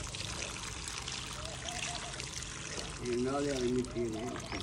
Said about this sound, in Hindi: डाल दो पानी साइड पे।